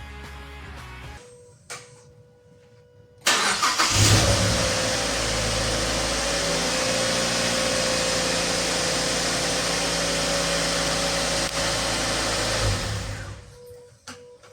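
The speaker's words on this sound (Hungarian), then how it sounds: "Úgyhogy itt hagyom a mikrofont, aztán beindítom a kocsit," A Mazda MX-5 NC roadster with a freshly swapped 2.0-litre engine replacing the 1.8 cranks briefly and catches, then settles into a steady, loud idle close by that holds for several seconds before shutting off, with no talking.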